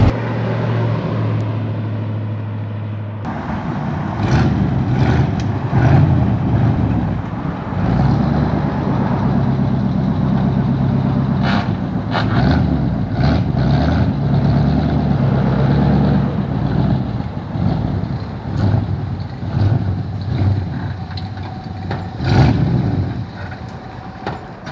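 An old car being driven: a steady, close engine rumble and road noise run continuously throughout, with rattles and bumps rising and falling over the drive.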